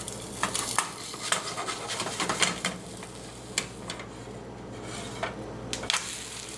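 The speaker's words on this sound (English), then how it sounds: "I've got this big spatula which just fits my skillet" A big spatula scrapes and turns migas in a snug-fitting skillet, making irregular scraping strokes and light knocks over a faint background sizzle. The sounds are close and moderately loud, with no speech.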